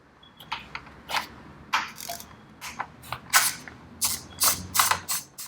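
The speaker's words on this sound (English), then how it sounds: "These fasteners have a 5mm Allen key that I'm just putting onto this 3/8 ratchet." A 3/8 ratchet fitted with a 5mm Allen key works the fender bolts on a Royal Enfield Himalayan motorcycle, giving bursts of close, crisp clicking that come and go in short runs with pauses between them.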